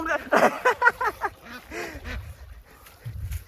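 A duck quacks in a quick run of loud, close nasal calls, then a few slower quacks trail off, with splashing and faint voices around a waterside scene.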